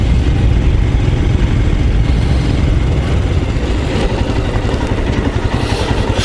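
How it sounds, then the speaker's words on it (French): A Royal Enfield Scram 411 motorcycle on an off-road ride gives a loud, steady, low engine drone close by, with rumble and wind noise throughout and no clear rise in revs. "il faut que je commence à tirer dans le moteur quand même de temps en temps"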